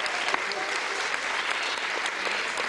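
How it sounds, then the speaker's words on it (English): A large audience bursts into sustained, even applause for a chef, dense clapping that holds steady without any voices. "give him a big clap."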